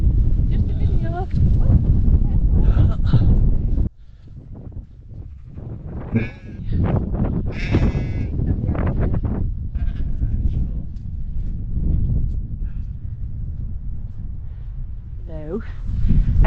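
Sheep bleat several times in open, windy countryside on a rural walking loop near Egton Bridge and Glaisdale, with a person talking over much of it and wind rumbling against the microphone throughout.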